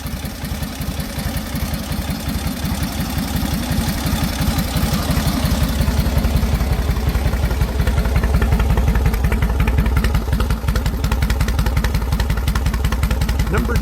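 A classic Indian Chief motorcycle engine idles close by, its steady loud throb of rapid regular firing pulses continuing throughout with a faint mechanical clatter on top.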